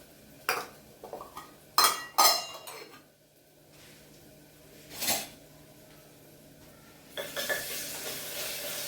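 Ginger-garlic paste being stirred into onions in a pan for mutton curry, with a few sharp clinks and scrapes of a utensil against the pan, quiet gaps between, then a soft sizzle toward the end.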